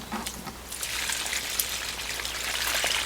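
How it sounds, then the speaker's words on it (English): Excess water draining from mulberry fibers soaked overnight for papermaking, a steady hissing trickle and splatter that builds after a quieter start and continues without voices. "the next stage is actually to drain off some of that excess water"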